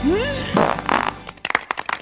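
A comic fart sound effect plays on a morning radio show, a long sputtering blast that rises in pitch and breaks into a rapid rattling flutter, loud and close over faint background.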